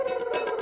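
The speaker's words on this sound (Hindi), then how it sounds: "ऐसे खट्टे डकार आ रहे" A single short, croaky, gurgling belch from someone with indigestion and sour burps, loud and close.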